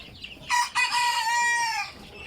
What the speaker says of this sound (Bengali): এইগুলো আমাদের অরিজিনাল মিশরীয় ফার্মি মুরগির বাচ্চা।